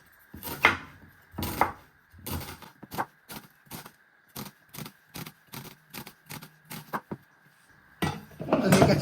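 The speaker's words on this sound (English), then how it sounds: "you want to finely slice it into thin pieces" A knife slices a peeled onion into thin pieces on a cutting board. There are about a dozen crisp, evenly spaced chops, close and clear, under a faint steady background hum, with a rustle of handling at the end.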